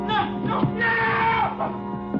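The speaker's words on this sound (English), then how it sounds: "The yell comes from the floor below me." A man yells from the floor below in a radio drama, a sustained raised voice that rises and falls over about two seconds, fairly loud and close in the mix.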